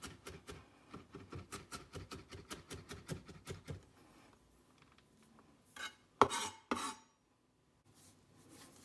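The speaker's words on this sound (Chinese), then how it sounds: "首先我们把蒜2瓣的大蒜切碎" A knife mincing two garlic cloves on a cutting board for beef and leek dumpling filling: a quick, regular run of close chopping taps for about four seconds, then quiet with a couple of louder knocks and scrapes.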